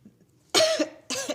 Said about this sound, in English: me coughing like this